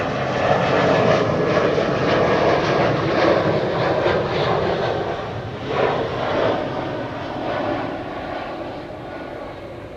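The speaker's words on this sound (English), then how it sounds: "RCH flight 4279, arrived from Mildenhall. Another Globemaster with registration" A Boeing C-17 Globemaster military transport arrives at Schiphol from Mildenhall, its engines making a broad, continuous rumbling roar that holds steady and then eases slightly toward the end.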